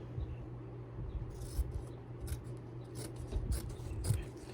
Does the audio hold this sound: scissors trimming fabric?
yes